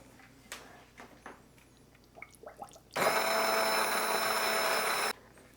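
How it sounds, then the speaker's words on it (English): After some soft handling clatter, a stick immersion blender whirs loudly for about two seconds, blending tomato soup in a steady high buzzing drone that then cuts off abruptly. "I'm going to use a stick immersion blender. We want to get this nice and smooth."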